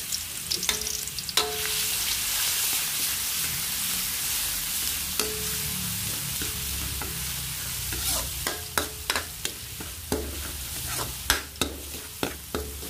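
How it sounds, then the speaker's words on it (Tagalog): Garlic sautéing in hot oil in a pan, a steady close sizzle with repeated sharp stirring scrapes and clicks growing more frequent toward the end. "Ito, may mantika na yung kawali. Gisa ko ng bawang."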